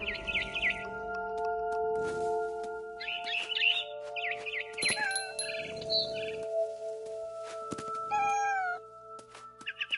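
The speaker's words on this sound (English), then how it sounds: "Then I heard chirping outside my window. It was a barn swallow going back to her nest." A barn swallow in What Remains of Edith Finch gives a few high twittering chirps, mixed with cat meows and tonal game music, with occasional thuds and soft rustles in a quiet interior scene.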